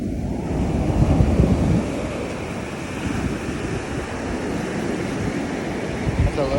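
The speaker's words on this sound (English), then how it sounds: "It is massive. These waves." Big ocean waves roll and break continuously on a beach, with heavy wind buffeting the microphone and no voices.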